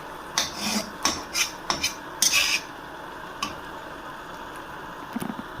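A utensil scrapes and taps against a pan while breaking up cooked egg for egg fried rice, with several short, clicky metallic knocks in an irregular rhythm early on, then quiet.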